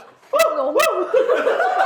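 A voice mimics a dog, giving two short sharp bark-like yelps followed by wavering howling vocal tones, close and fairly loud.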